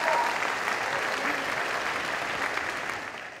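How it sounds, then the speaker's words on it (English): Steady, dense applause from a school audience celebrating a state championship basketball team, a continuous wash of many hands that fills the whole stretch and eases slightly toward the end. "Yes, you can clap for that"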